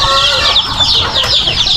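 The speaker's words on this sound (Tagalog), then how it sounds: "matapang yung inahin kaya hindi nababawas sa sisiw niya" A hen clucks continuously with her chicks' high chirping peeps layered over it, a busy close-up flock on a farm.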